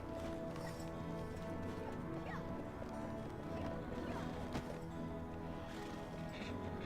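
Horse hooves clip-clopping in the online game Black Desert Online, a steady rhythmic trot set against a continuous bed of game music and ambience, with a faint voice in places.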